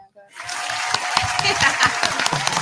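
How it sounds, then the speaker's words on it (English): A live audience at a community podcast recording bursts into applause after a short pause, dense clapping swelling and holding loud, with a few cheers mixed in. "Can I get a hand clap?"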